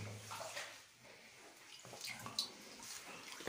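Water dripping and trickling inside an old bomb shelter with pipes overhead, a continuous faint wet patter with a few brighter drops, distant and reverberant, no talking.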